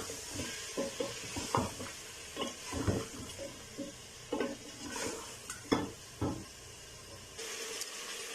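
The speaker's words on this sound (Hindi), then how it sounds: "इन दोनों चीज़ों के साथ हम गोश्त को अच्छी तरह फ्राई करेंगे" Mutton fries with ginger and garlic in a pot for rogan josh, heard as a soft sizzle under repeated scraping and stirring strokes and light clinks of a spoon against the metal pot, fairly close.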